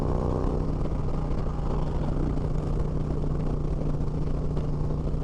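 A motorcycle engine idles close by, a steady low rumble with an even droning hum that holds unchanged throughout.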